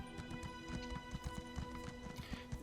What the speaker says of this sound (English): summon a horse while you're doing a Thieves Guild mission.